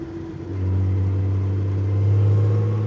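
A 1950s Jaguar D-Type racing car's engine idles, then swells into a deep, steady, loud rev nearby, holding a strong low rumble that rises slightly toward the end.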